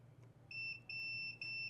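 A multimeter in continuity mode beeps while probing a phone circuit board: three short, clear high-pitched tones in quick succession over a faint low hum.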